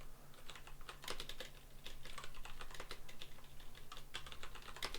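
Rapid clicking keystrokes on a computer keyboard while entering a word in a daily Wordle-style puzzle, close and fairly quiet, tapping in an uneven steady patter throughout with no talk.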